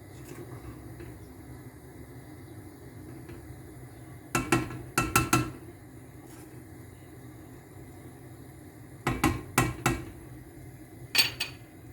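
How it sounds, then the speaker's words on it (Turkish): A spoon clanks against a pot of strawberry jam simmering with sugar, with two clusters of three or four sharp metallic knocks and a final pair over a low, steady background hum. "Şöyle bir karıştırıyorum."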